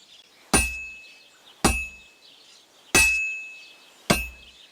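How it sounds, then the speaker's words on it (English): A blacksmith's hammer strikes a workpiece on an anvil in the game Kingdom Come: Deliverance II, four sharp ringing metallic clangs spaced about a second apart, each decaying quickly, with no talk. "You've got to hammer the workpiece evenly. One hit next to the other."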